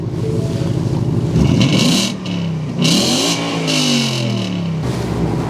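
A V8 Corvette engine revving at hot idle, loud and close, with a deep burbling note that climbs and falls through two throttle blips before settling back to a steady rumble.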